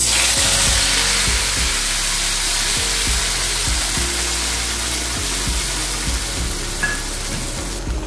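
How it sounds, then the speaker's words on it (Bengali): Paste of ginger, onion, garlic, tomato and green chili goes into a hot pan of whole spices for jackfruit kabab curry, giving a steady, loud sizzle and frying hiss throughout with soft stirring knocks and scrapes. "এবার দিচ্ছি আদা, পেঁয়াজ, রসুন, টমেটো, কাঁচা লঙ্কা বাটা।"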